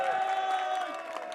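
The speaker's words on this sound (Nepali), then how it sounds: "ल सबैले ताली बजाउनुहोस्।" Crowd at a political briefing meeting ahead of a mass rally clapping and cheering together, a steady dense wash of applause with scattered whoops, fairly close and continuous throughout.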